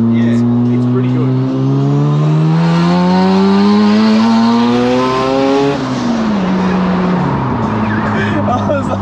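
A Mazda RX7 with a bridge-ported rotary engine accelerates hard, its loud, rasping exhaust climbing in pitch through a gear before a shift and further revving, heard close from inside the car with people talking over it.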